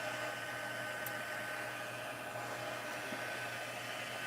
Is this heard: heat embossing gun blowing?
yes